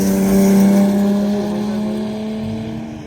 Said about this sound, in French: Vous allez voir le GTR sans turbo là